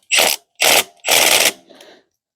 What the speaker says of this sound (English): I got my setting on my Milwaukee on number 1, or about 8 foot-pounds of torque